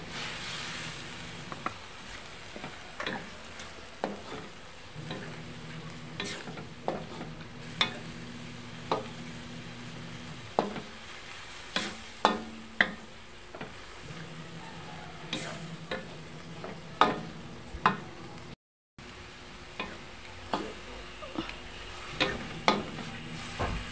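Liver sizzling in a hot pan while being stir-fried for Filipino pancit bihon guisado, a steady frying hiss broken by regular scraping and stirring clatters of a utensil against the pan, no talking.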